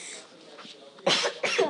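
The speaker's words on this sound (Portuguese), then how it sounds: "A pessoa está tossindo." A person coughs twice in quick succession, two sharp, fairly close bursts after a quieter, murmuring start.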